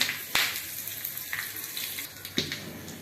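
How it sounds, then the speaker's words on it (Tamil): Curry leaves dropped into hot oil, along with cumin and a broken dried red chilli, while tempering for lemon leaf rasam. The oil sizzles loudly and steadily, with sharp crackling bursts as each addition hits the pan. "இன்னும் கருவேப்பிலை போடுறேன்"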